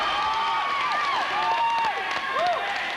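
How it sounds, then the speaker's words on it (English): Crowd at a fencing match erupts into steady applause and cheering, sharp whistles rising and falling over the din, loud and sustained for the full stretch. "What a reaction this crowd is here today."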